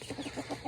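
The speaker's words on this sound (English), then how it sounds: "The kids love the chickens." Backyard chickens from a home coop give a quick run of soft, close clucks, several short rhythmic pulses with no voices.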